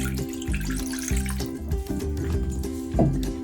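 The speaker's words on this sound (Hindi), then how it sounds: "सबसे पहले मैं डालूंगी इसके अंदर पानी।" Water is poured into a bowl to start a falooda mixture of cornstarch and sugar, a close, steady splashing flow that runs on without a break, with no talking over it.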